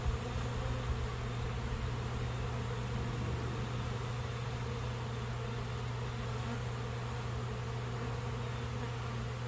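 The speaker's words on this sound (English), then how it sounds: "When people don't believe me how many bees are in these boxes, now you can see." Dense swarm of honeybees pouring out of hive boxes, tens of thousands strong, making a loud continuous buzzing drone that stays steady and close throughout with no voices.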